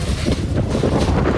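Strong whipping wind gusts during a tornado storm on the Jersey Shore in Ocean City buffet the microphone with a loud, continuous, roaring rush that surges and dips.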